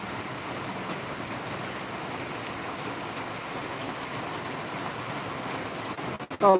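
Rain falls steadily, a dense, even hiss of drops on surfaces throughout, with a brief knock of handling noise right at the end.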